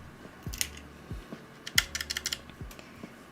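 Scattered keystrokes clack on a computer keyboard in short irregular bursts, close and fairly quiet, with a few soft thumps between them.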